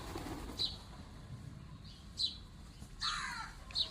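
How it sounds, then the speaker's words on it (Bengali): Pigeons flocking in to feed on scattered rice, with brief bursts of wing flapping and bird calls standing out at intervals over a soft, steady outdoor background; no talking. "কত পায়রা এসেছে"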